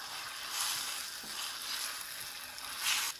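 Eggs and potatoes frying in ghee while being stirred in a pan, a soft steady sizzle with brief scraping swells from the stirring, close and fairly quiet, with no voices.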